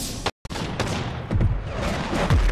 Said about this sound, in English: Okay, we got people shooting